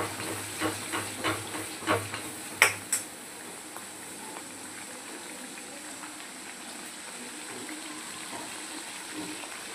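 Ground spice paste for Hyderabadi mutton masala curry frying in oil, a steady soft sizzle after a few sharp clatters and stirring knocks at the start, close by with no talk.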